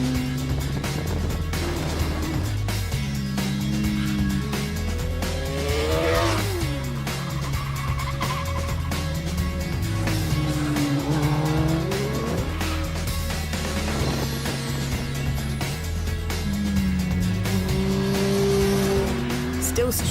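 A motorbike is ridden hard around a timed lap, its engine revving up and down in repeated swoops with loud, high-pitched pulls between gear changes, while someone talks over it.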